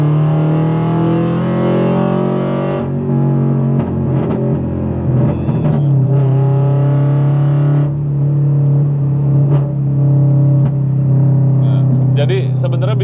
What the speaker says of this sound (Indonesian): Dan ini sekarang kita kasih denger yang namanya exhaust burble ya,